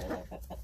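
An original bearded Americano rooster clucks in a few short, close calls that come in quick succession, with no talking over them.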